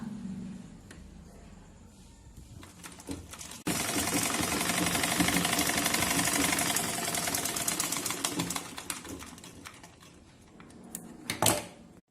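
A sewing machine stitches folded chiffon fabric in a loud, fast, even run of needle strokes lasting several seconds, then slows and stops with a few sharp mechanical clicks.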